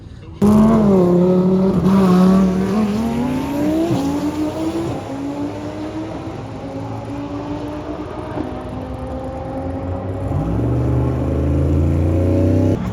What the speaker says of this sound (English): I think he's actually lined up with Mike, if I'm not mistaken, and it'll be a nice little race